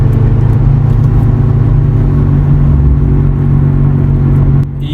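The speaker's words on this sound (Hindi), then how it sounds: "मुझे लग रहा है इसका जो फ्रंट बैरिंग है उसके अंदर भी आवाज़ है" A car idles in neutral at about 700–800 rpm while a suspected worn front left wheel bearing gives off a loud, continuous droning hum. The sound stays steady and close, with no talking.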